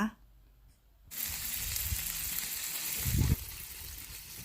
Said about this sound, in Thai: ตอนนี้เราก็ใส่ผักลงไปรอก่อนแล้วกันนะคะ